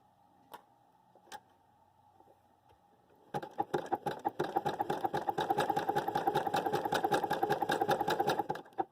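A domestic sewing machine stitching fabric seams. A few isolated clicks come first, then the motor runs steadily in a fast, even, rhythmic stitching chatter that continues to the end, close and fairly loud, with no talking.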